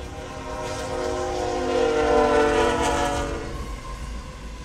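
A train passes a level crossing, sounding its horn in a sustained multi-tone blast that swells as it approaches and fades away, over the rumble of the wheels.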